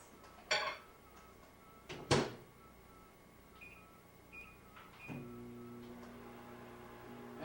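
A kitchen microwave oven is put to use with butter in a dish: a couple of sharp clacks of the door and dish, a few short electronic beeps, then a steady low running hum.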